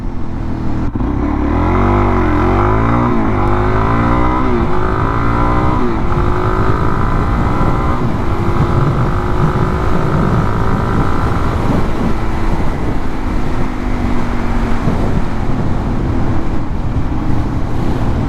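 A Suzuki DRZ400SM motorcycle with an MRD Z-Pro shorty exhaust runs hard through the gears. Its loud, continuous engine drone rises in pitch during acceleration, heard from on board with strong wind rumble and no talking.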